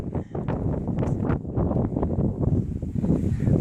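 Strong wind blasts across an exposed mountain ridge on a Pacific Crest Trail hike, a loud, rough, gusting roar buffeting the microphone close up and filling the whole moment with no voices.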